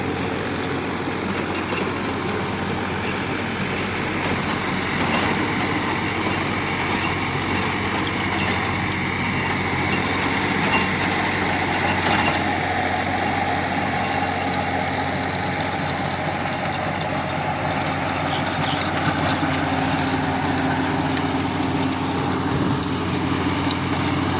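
A tractor engine runs steadily at idle with a continuous droning hum and rattle, close and loud, holding without pause throughout.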